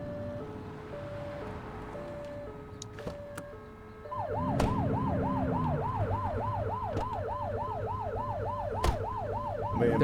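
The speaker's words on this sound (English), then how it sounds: "Turn that siren off." Emergency vehicle siren in the police video game The Precinct, a steady two-tone pattern that switches at about four seconds into a loud, fast rising-and-falling wail over road and engine noise, with no talk.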